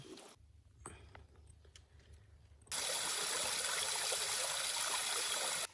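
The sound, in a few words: stream flowing below a waterfall in the forest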